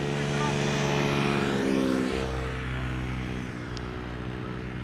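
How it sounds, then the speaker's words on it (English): Two 50cc four-stroke moped scooters pass along a cycling path near Amsterdam Schiphol Airport, a buzzing engine drone that rises close by and then fades, over a steady roar of background traffic. "2 more mopeds following on the cycling path."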